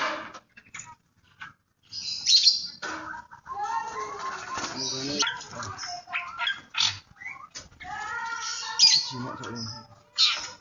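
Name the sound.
starling singing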